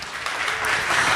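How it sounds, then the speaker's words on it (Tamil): Congregation at a Sunday church service in Karaikal breaks into applause, clapping building quickly and continuing strongly, a full room of hands heard near. "நல்ல கைதட்டு வச்சாமா"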